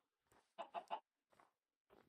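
Several short chicken clucks from a Minecraft farm animal, a few quick close calls in a cluster followed by two fainter single clucks, heard alone against silence.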